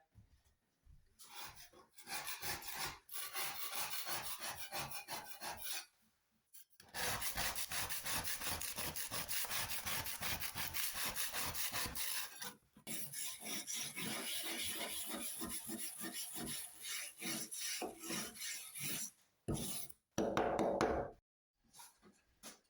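Scrap wood for a sink is sanded by hand in long, rhythmic rasping strokes, close and fairly loud, in several bursts broken by short pauses, with no talking.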